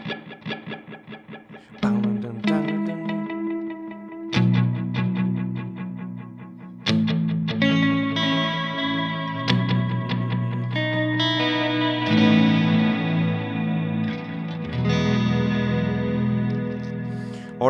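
Guitar notes played through a Strymon Volante delay pedal set to triplet-spaced repeats, each plucked phrase trailing into layered, evenly timed echoes that build into a dense, shimmering wash, clear and without talk.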